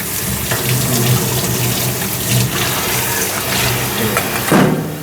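Food being rinsed under a running kitchen tap to wash off salt and baking soda, a steady loud stream of water splashing into a sink with no talk.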